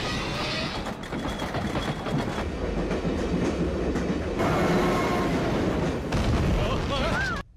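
An underground train rumbles steadily through an old subway station in an animated comedy, a loud continuous roar with rattling surges and a brief squeal near the end.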